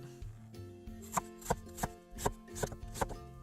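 A knife chops an onion steadily on a cutting board, about eight sharp, evenly spaced thunks over a low, humming background.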